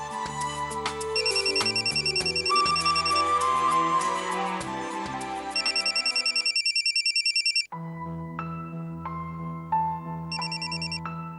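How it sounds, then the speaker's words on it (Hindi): A telephone rings repeatedly with bright trilling bursts, layered over a continuous musical background; the ringing pauses briefly, then returns. "गुंजन, तुम्हारे पापा का फोन है"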